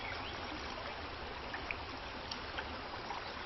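Outdoor stream water flowing in a constant broad wash, with faint trickles and small splashes rising above the steady rush, and no voices over it.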